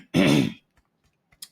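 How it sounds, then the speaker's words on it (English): A man clears his throat once, a short rough rasping burst, followed by a few faint clicks and a small breathy sound in a quiet room. "it makes me cough like hell"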